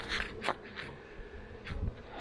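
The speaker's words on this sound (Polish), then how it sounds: "Pszczoły." Honeybees buzz close by around a hive in short, darting bursts, their drone rising and falling as individual insects pass near.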